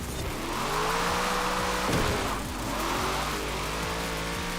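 An American racing car in Forza accelerates hard, its engine roaring loudly and rising in pitch through repeated gear shifts, with a steady, close, continuous engine drone.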